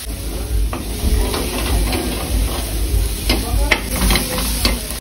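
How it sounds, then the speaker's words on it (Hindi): Ginger garlic paste being fried in a pan while stirred, a loud continuous sizzle with scraping spatula strokes and occasional pops, close up, no talking. "अब आपने इसको बढ़िया तरीके से भून लेना है जैसे कि मैं भून रहा हूँ"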